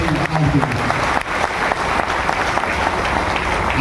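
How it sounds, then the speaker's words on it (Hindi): Loud, dense applause from a seminar audience at a DXN business meeting, continuous clapping filling the whole stretch with voices mixed into it. "एक जोरदार ताली"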